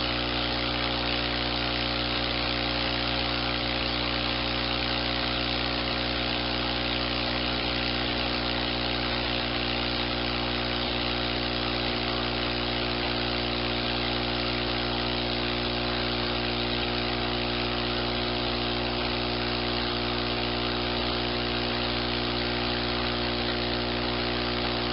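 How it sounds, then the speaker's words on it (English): An electric pump draws air out of a personal cushion lift, giving a loud, steady motor whine with a constant hum that never changes for the whole stretch, with no voices. "Without this pump sucking the air out of the cushion, what happens is it gets to about this height right there"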